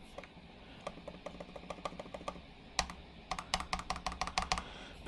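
Typing on a freshly installed replacement keyboard of a Lenovo ThinkPad L480 laptop: light, crisp key clicks, first in sparse scattered taps, then a faster quiet burst of keystrokes, close up in a quiet room.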